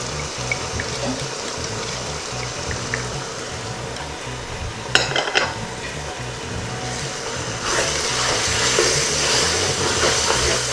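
Spiced beef biryani masala sizzles in a pan while being stirred, a steady hiss of frying with a scrape or clink from the spoon midway and the sizzle swelling louder toward the end.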